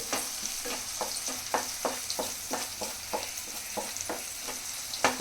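Egg keema curry is stirred as it fries in a pan. Rhythmic spoon scrapes repeat roughly every half second over a continuous sizzle, close and moderately loud.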